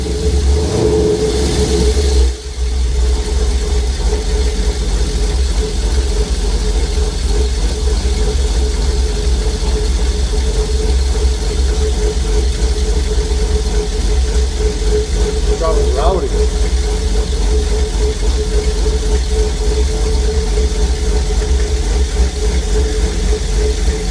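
An LS V8 engine runs loudly and steadily right after its first start, a constant deep rumble with a brief throttle blip near the start and a faint squeal partway through.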